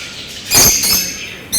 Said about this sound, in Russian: Видите, у них голос такой напоминает какой-то металлический звук.